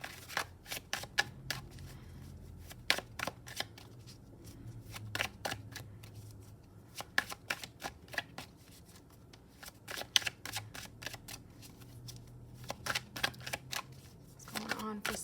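A deck of tarot cards is shuffled over and over with quick riffling snaps and flutters in irregular bursts, close and fairly crisp, while a voice talks softly beneath and between them.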